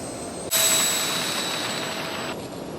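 An XFLY Twinliner RC model airplane flies over the ocean, its electric motors giving a steady, bright, high whine that starts suddenly, holds, and then drops slightly in level. The sound is fairly close and there is no talking.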